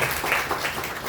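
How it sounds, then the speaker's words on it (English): A short burst of audience applause at a hospital event, many hands clapping together in a dense, steady patter. "he deserves a big round of applause."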